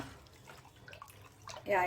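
Hot water pours steadily into raw rice for neer dosa batter, a close, continuous liquid splashing that swells louder toward the end as a voice begins.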